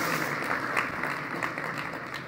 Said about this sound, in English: You can applaud, no problem.